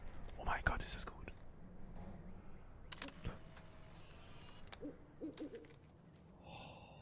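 A cartoonish owl hoots in the video game Life is Strange, faint and intermittent amid quiet game ambience, with a whispery texture and a few soft clicks.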